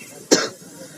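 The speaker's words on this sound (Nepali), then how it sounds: "अलि खोकी लागिरहेको छ" A single sharp, close cough from someone with a cough during cold weather, heard alone and followed by a short fading rasp.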